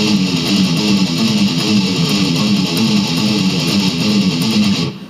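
Electric guitar playing the repeated breakdown riff from the middle of a song, a steady, loud chugging pattern that continues without pause and cuts off right at the end.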